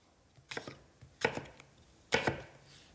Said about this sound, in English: And then just cut your apple into pieces about the size of the celery.